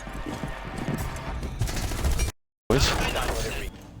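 Rapid, dense gunfire in Rainbow Six Siege plays loud and continuous, cut by a brief silent gap before resuming, with players talking over it.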